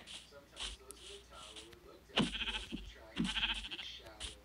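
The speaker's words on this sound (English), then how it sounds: "There's a sheep." Sheep bleating in a Minecraft survival multiplayer game, a few short bleats spread across the clip over a quiet game background.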